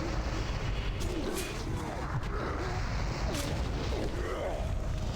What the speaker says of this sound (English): That explosion got some kills.